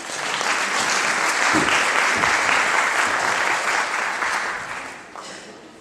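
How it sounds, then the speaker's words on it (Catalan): Loud, sustained clapping from a school audience at a Christmas carol concert, a dense wash of hand claps lasting several seconds before tapering off near the end. "Un fort aplaudiment."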